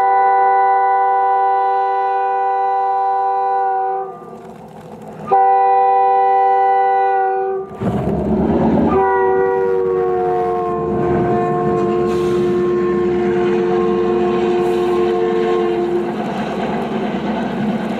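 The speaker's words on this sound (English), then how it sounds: "Visibility has decreased as UP 600 flanges past our location at Soda Springs." Union Pacific UP 600 snow flanger passing at Soda Springs in falling visibility: a loud, sustained multi-tone horn sounds twice, then heavy rumble and rail clatter swell close by as the train goes past. No voices.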